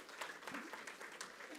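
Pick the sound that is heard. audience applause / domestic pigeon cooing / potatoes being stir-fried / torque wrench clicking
audience applause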